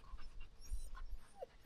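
A dog panting after running around outdoors on an Arctic summer walk, with quick soft breaths that are faint against low wind rumble.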